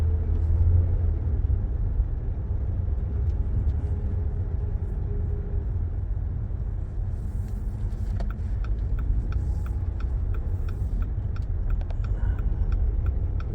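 A 4-wheel drive truck drives along an icy road, with a steady low rumble of engine and tires heard from inside the cab and faint ticking sounds toward the end.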